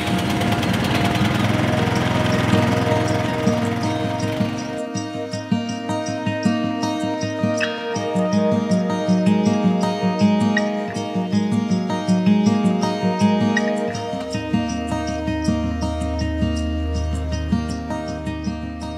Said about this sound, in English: As I'm snow blowing